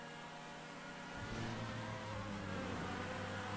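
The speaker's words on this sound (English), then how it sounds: "I'm literally hearing two mosquitoes driving. My own car and Sam's car." Two cars in a racing video game drone with a thin, high buzzing engine whine, faint and continuous, rising slightly in intensity partway through with no talk over it.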